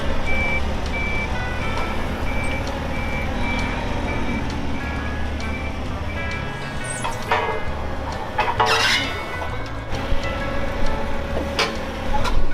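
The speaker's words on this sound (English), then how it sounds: "So, Hillbilly is gonna go grab the telehandler." A telehandler's reversing alarm beeps in a steady repeated rhythm at moderate distance over a low engine rumble, with clattering mechanical noises and shop sounds around it.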